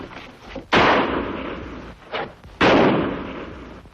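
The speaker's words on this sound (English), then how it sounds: "gunfire" Gunfire in an old Western drama, two sharp, loud reports about two seconds apart, each with a long echoing tail, plus a softer shot just before the second.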